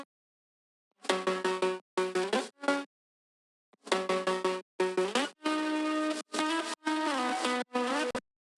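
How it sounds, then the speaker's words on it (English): A self-played guitar with autopan cuts in and out in short choppy bursts, a string of stuttered notes with gaps between groups, heard alone in a liquid drum and bass track. "And then we also have a guitar which I played myself"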